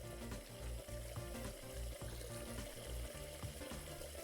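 Running water in the cat game Catlateral Damage: Remeowstered, a steady, fairly loud tap-like stream that goes on through the clip under a pulsing low background rhythm.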